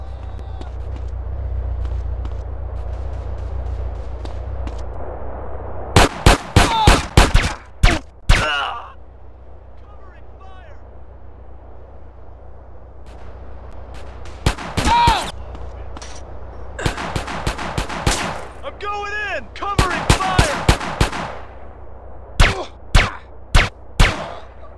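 Gunshots in GTA San Andreas, loud sharp cracks in quick clusters of several shots, with pauses between the clusters, over a low rumbling background.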